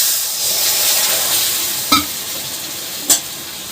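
Tamarind pulp water poured into hot oil in a wok, a loud steady sizzle and hiss with two sharp spattering bursts near the end, no voices.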